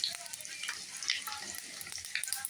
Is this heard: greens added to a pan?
yes